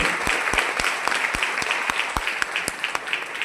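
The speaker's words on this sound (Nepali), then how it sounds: "तपाईहरुको लागि जोड ताली सबैजनाले गर्नु" An audience breaks into loud, sustained applause, a dense wash of clapping with a few sharper individual claps standing out near the front, steady for the whole stretch.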